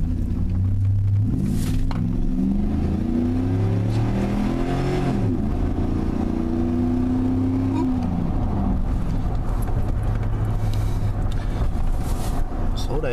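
A car with a GM 4.8L engine under hard acceleration, its loud engine note climbing in pitch through several gear-like sweeps, then settling into a steady cruising drone, heard from inside the cabin with continuous road rumble.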